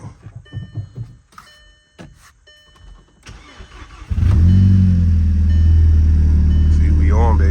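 A VW Jetta Sportswagon with a TSI 2.0T engine cranks and fires up after a few seconds of clicks and shuffling, then settles into a loud, steady close-up idle; someone speaks briefly over it.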